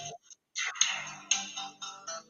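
A phone ringtone playing the Law and Order theme sounds in a few short electronic bursts with gaps between them, moderately loud and alone.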